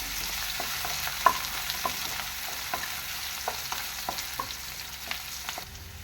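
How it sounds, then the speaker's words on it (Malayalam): Fish curry masala with curry leaves, for a valakoori fish curry, sizzles steadily in a pan. A spoon stirs it close by with repeated soft scraping strokes, and no one speaks. "നമുക്ക് ഒന്ന് ഇളക്കി പച്ചമണം മാറുന്നവരെ ഒന്ന് ഇളക്കി കൊടുക്കും"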